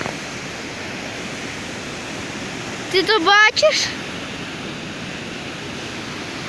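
A flooded mountain river in the Carpathians rushes loudly and steadily, its broadband roar filling the whole stretch, with someone briefly speaking close by midway.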